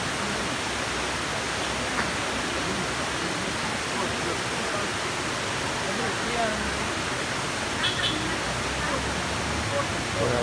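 Rawana Falls, a tall waterfall, gives a steady, dense roar of falling water. The sound stays loud and unbroken throughout, heard close to the cascade.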